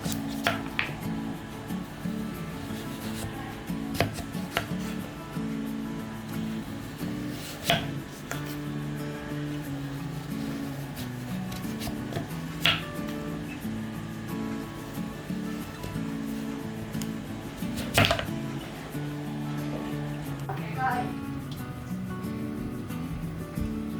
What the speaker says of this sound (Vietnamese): mình sẽ xắt cho đến hết cái phần bí nha